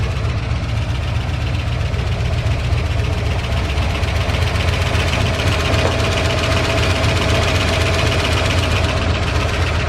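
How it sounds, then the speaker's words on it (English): A 1978 Dodge engine idles after a camshaft and lifter replacement, its steady loud rumble carrying a rapid, continuous ticking throughout, with no voices. "that ticking and ticking and ticking has been happening ever since I did the camshaft on it"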